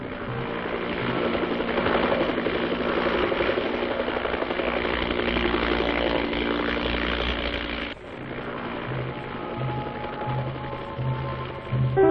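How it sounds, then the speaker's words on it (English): Steady droning rotor and engine noise of a military helicopter, fairly loud and continuous, with a slight drop in intensity partway through. "The helicopter evacuates casualties and transports equipment."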